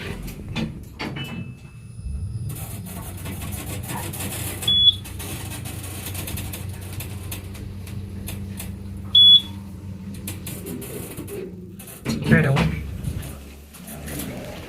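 A steady low motor hum from a 2023 Otis Gen2 machine-room-less traction elevator in an apartment building runs for several seconds, with two brief electronic beeps and some muffled voices around it.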